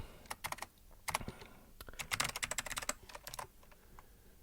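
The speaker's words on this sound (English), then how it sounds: "Press Ctrl D to delete the line." Computer keyboard keys pressed in quick irregular bursts while editing code to delete a line, crisp clicks close by with short pauses between flurries.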